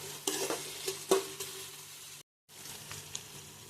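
Onions and green chilies frying in oil with turmeric, a soft sizzle under repeated spatula stirs and a few knocks against the pan, briefly cutting to silence before the frying resumes, nearby and moderate.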